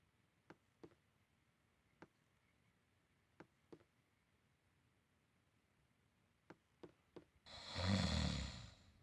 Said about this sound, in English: Oh, he's snoring away.